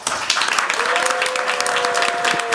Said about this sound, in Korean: 2022 국회 ESG 토크 콘서트를 여러분의 함성과 박수와 함께 힘차게 시작하겠습니다.